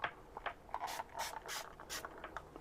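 A handheld spray bottle mists water onto watercolor paper: a string of short, sharp hissing spritzes in an uneven rhythm, close and fairly quiet, with no talking.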